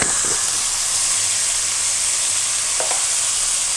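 Vegetables sizzle and fry steadily in a hot pan as spices go in, a loud continuous hiss with a couple of brief stirring scrapes, no talking.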